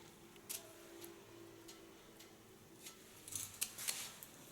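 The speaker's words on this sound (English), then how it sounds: "do this slice cutting" Scissors slice-cutting hair to create a soft line during a short pixie haircut, faint crisp snips scattered at intervals and clustering near the end over a quiet room background.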